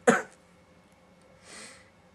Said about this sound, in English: Someone making me cough while I was saying that.